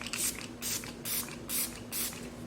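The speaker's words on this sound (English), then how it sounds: "you will have to kind of spray a couple times." Makeup setting spray mists out of a pump bottle in five short, close bursts at an even pace, each a soft airy hiss with a brief gap between.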